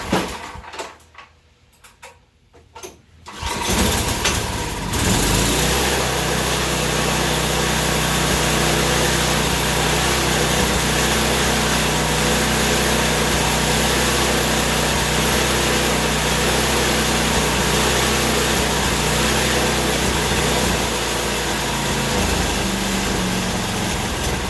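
A Tecumseh snowblower engine with a carburetor running rich starts after a few seconds of quiet and keeps up a steady, loud, close mechanical drone, with no one talking over it.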